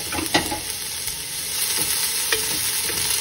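Onions, curry leaves, ginger and garlic fry in a pan for a Sri Lankan crab curry, a close, steady hiss broken by a few sharp spatula scrapes and clinks, with no talking.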